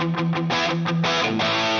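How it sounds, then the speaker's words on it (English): An electric guitar runs through a Tube Screamer overdrive on a HeadRush unit with the drive fully up, giving a few thick, distorted chugging chords in a hair metal tone, loud and alone. "we're going to go into distortion land, and we are going to start with an overdrive"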